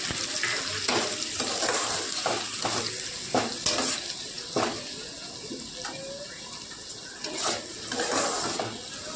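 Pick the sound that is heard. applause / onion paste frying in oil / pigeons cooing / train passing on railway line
onion paste frying in oil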